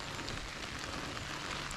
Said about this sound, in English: But here comes the rain.